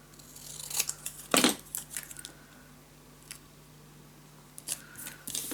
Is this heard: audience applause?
no